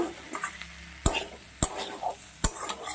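Spices with fried potatoes and jackfruit being stir-fried in a pan for a vegetarian jackfruit curry, a steady sizzle broken by three sharp, close spatula scrapes and knocks against the pan.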